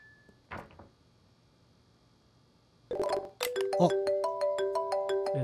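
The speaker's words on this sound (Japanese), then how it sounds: "と電話かかってきた" A telephone rings inside a mystery-solving video game about a bomb, a steady electronic ringtone with repeating tonal pulses starting partway through and continuing loudly to the end, after a brief clatter and quiet stretch.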